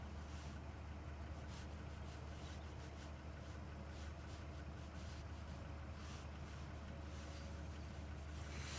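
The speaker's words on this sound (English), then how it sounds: "You can hear those whiny engines." A Wizz Air A321neo jet lined up on runway 07 at a foggy London Luton Airport gives a steady, faint, distant engine drone and rumble with a thin whine, continuous throughout with no talk.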